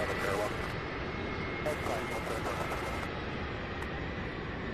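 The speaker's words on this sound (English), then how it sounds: "767 landing." A Boeing 767 jet comes in to land at Louisville's SDF airport, a broad steady engine roar that fills the whole clip at a moderate distance, with voices talking underneath.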